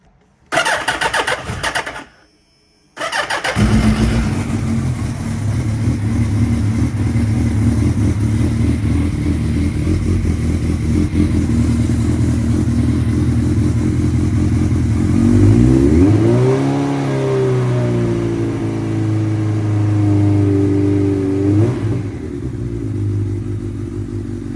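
A Suzuki Hayabusa motorcycle with a charging fault cranks briefly, cuts, then fires up and settles into a steady close idle, with a rising rev and a held higher-pitched run before easing back down.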